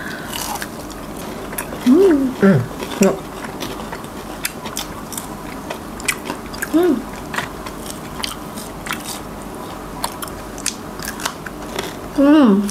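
Crispy Kanzler chicken nuggets and Kanzler sausages are bitten and chewed close to the mic during a Ramadan fast-breaking meal. Sharp crunchy bites come at intervals among steady chewing, and voices talk intermittently.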